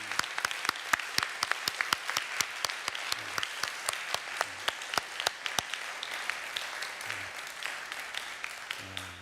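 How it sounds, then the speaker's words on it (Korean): A church congregation at a closing worship service claps in a sparse, distinct pattern, individual sharp claps standing out in a fairly quiet hall as the applause continues at a modest level. "우리 하나님께 영광의 박수 올려드리도록 합니다"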